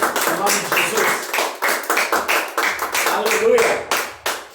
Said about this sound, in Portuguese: dá um aplauso para ele, bem forte